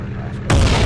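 Aircraft crashing in the World Flight VR game: a sudden loud, broadband boom-like impact about halfway through, following a quieter low rumble, then sustained roaring noise to the end.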